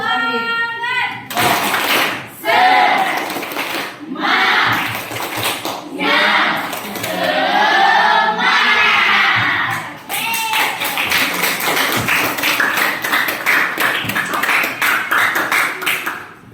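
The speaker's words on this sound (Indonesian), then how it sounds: "Ibu mau minta dulu tepuk semangatnya" A school class performs the tepuk semangat, a rhythmic clapping chant: children's voices chant in unison while sharp, patterned hand claps punctuate the phrases, loud and close throughout.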